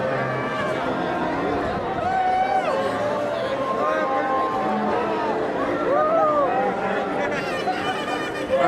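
A dense New Year's Eve crowd in Las Vegas near Harrah's and Caesars keeps up constant chatter and babble, with scattered shouts and laughter as someone walks through it.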